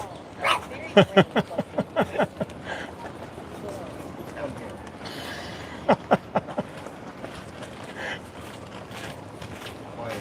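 Dogs bark on Waikiki Beach in two short bursts of several quick, sharp barks, the first near the start and the second past the midpoint, heard through steady outdoor ambience with people talking nearby.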